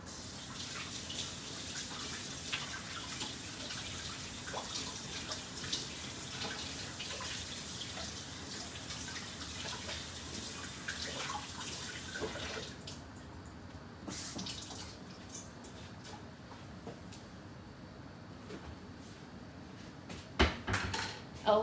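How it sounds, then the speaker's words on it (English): Tap water runs steadily from a faucet during handwashing in a home kitchen, a continuous broadband hiss for about twelve seconds that then cuts off, leaving quieter drips and small clatters. "Let me just quickly wash my hands and I will be back."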